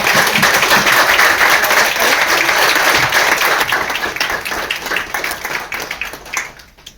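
Bank staff at a Punjab National Bank retirement farewell give a loud, sustained round of applause, dense clapping from many hands that carries on for several seconds before thinning out at the end.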